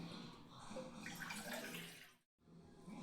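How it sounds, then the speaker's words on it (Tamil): Water is poured into a cooking pot, a soft continuous splashing pour lasting a couple of seconds before stopping abruptly, then resuming briefly. "அதுக்கு முதல்ல ஒரு பாத்திரத்தில் தேவையான அளவு தண்ணி ஊற்றிக்கலாங்க."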